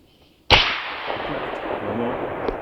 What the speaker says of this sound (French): Je vais vous montrer le tir au ralenti.